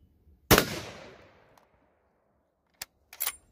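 A single loud gunshot from a .458 Win Mag rifle cracks out up close and rings off with a long decaying tail, followed by a couple of sharp short clicks and knocks from handling the gun.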